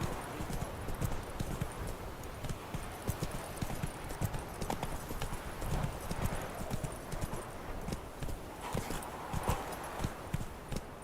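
Roach, a horse in The Witcher 3 video game, trots with steady, close clip-clopping hooves, with a faint neigh in places.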